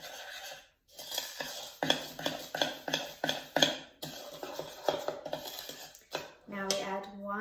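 A spoon stirs a homemade playdough mixture of salt and cream of tartar in a bowl, with repeated clinking and scraping against the bowl in quick bursts and a brief pause partway through.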